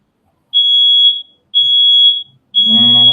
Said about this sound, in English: That alarm system is smoke detector.